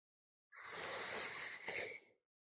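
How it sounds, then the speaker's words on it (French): One long, breathy yawn during a guided yoga and relaxation session, a soft drawn-out exhale lasting over a second that swells slightly at the end, quiet and close, with no speech. "on bâille"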